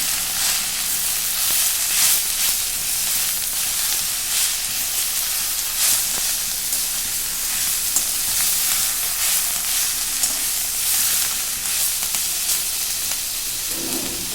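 Tandulsa greens sizzling in a hot pan while being stirred, a constant bright hiss and crackle that lasts throughout at a close, even level with no voices.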